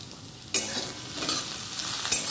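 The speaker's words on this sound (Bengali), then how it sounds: "সুন্দর ভাজা ভাজা হচ্ছে।" Food fries in a pan with turmeric, giving a continuous close sizzle punctuated by a few sharp scraping stir strokes, with no talking.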